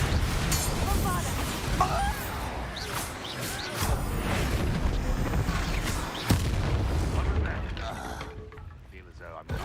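The Bombarda explosion spell in the video game Hogwarts Legacy goes off as deep booms and whooshing blasts over dense, continuous game noise, loud and close, with a sharp impact near the middle before it fades.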